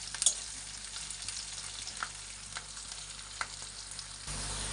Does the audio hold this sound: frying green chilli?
yes